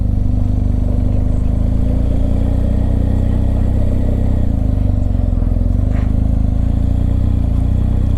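A BMW R1250GSA Rallye motorcycle on the move, its boxer engine giving a loud, steady low throb with rhythmic pulsing and road noise, close and continuous throughout.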